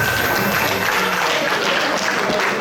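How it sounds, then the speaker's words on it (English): Loud, dense applause fills an award ceremony hall at Spinney Hill, a steady wash of many hands clapping with a faint voice or two underneath. "Let's give a round of applause, another round of applause."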